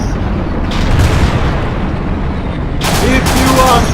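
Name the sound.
cannon and gunfire at an Abrams tank in video game Battlefield Iraq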